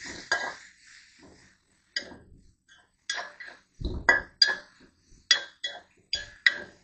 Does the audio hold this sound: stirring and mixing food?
yes